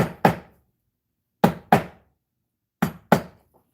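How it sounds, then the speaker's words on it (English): Hammer strikes on metal, delivered in three evenly spaced pairs of sharp, loud, close blows with silence between each pair, with no talking. "I guess I'm going to have to hammer it"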